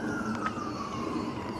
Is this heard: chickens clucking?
no